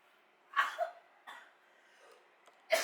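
Several sharp coughs from a person, first a close pair, then a weaker one and a final loud burst, with quiet gaps between them.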